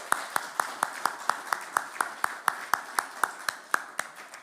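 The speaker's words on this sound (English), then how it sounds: "can we maybe have another round of applause?" Audience at a Pacific regional gathering of the Local Communities and Indigenous Peoples Platform claps in a steady, evenly spaced rhythm, crisp and fairly close, each clap sharply distinct, sustained for several seconds with no voices.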